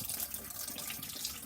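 Water bottles scrubbed with a bottle brush at a sink while the tap runs: a steady, close hiss of running water with rough, bristly brushing, no voices.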